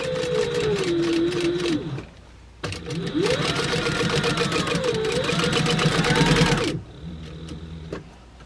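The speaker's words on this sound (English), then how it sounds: "take them to the sewing machine and we're going to sew it 1/4 of an inch all the way across." A sewing machine runs in two long stitching bursts across fabric for a carrying case, steady and close, with a short pause between and quieter background after it stops.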